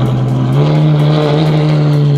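A Lamborghini Murcielago's engine revs hard and steadily during a burnout, a loud, sustained high-pitched roar with a constant drone and no voices over it.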